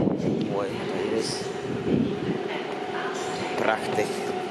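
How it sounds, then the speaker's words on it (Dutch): A train runs at a Belgian railway station, giving a steady rolling rumble with occasional higher squeals and clatter. People talk nearby over the noise throughout. "dat was de trein waar we op zaten."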